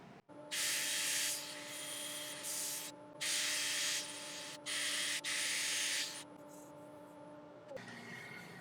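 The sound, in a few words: sanding an elm wood turning on a lathe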